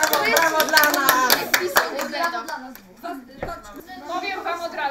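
Group of lecture attendees applauding, a quick dense burst of hand claps that thins out, mixed with talking.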